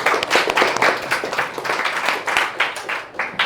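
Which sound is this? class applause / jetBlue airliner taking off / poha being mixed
class applause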